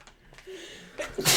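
A single close sneeze with a short inhaled buildup and a sharp burst at the end, heard indoors during a tabletop game session.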